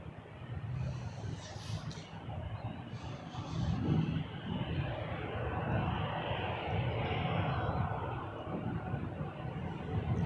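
A Jazz RJ900 regional jet arrives at Toronto Pearson, a broad, steady jet roar with rumbling engine noise that swells and holds as it comes in, heard from a distance.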